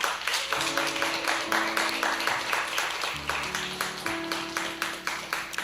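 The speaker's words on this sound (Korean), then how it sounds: "박수는 끝까지 해주세요." An audience claps steadily and rhythmically through a church youth worship service, the dense clapping sustained throughout over a low held background tone.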